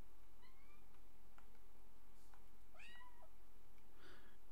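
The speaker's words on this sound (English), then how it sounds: "Go away, cat." Several short cat meows sound in the video game No Man's Sky, rising and falling over a steady ambient hum, fairly faint and spaced apart with no talking.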